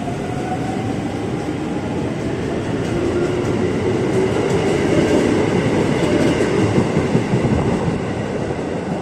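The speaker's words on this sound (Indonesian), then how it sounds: "Dimana ini masuk komuter lain tujuan Jakarta Kota, yang liverinya belang-belang." A KRL commuter train runs through Cikini station in Jakarta late at night, a steady loud rumble with rhythmic wheel clatter that swells midway as the cars roll past close by.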